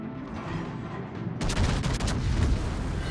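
Battleship gunfire in a naval battle video game, with a sudden loud salvo of heavy cannon shots cracking and booming over a steady background rumble, alone and without talk.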